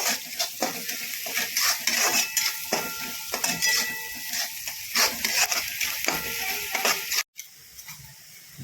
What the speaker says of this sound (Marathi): मीठ टाकल्याने कांदा लवकर भाजतो